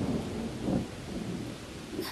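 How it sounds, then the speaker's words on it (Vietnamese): Heavy rain and a windstorm in an animated folk tale make a steady, dense roar of rainfall and rumbling wind with no voices over it. "Cho đến một đêm mưa to gió lớn."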